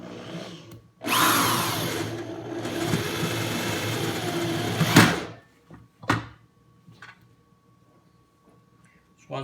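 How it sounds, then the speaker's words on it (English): A power drill drives self-tapping screws through 20-gauge metal deck to fix a thin-slab anchor, giving a long loud whirring run and then a shorter burst, both close, with pauses and handling knocks between. "The only tools you're going to be using here is going to be the drill and the metal deck screws"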